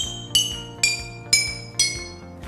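Glasses holding different levels of liquid struck one after another, four bright ringing clinks at a steady pace, each tone ringing out and fading before the next, their pitch shifting as the liquid level changes.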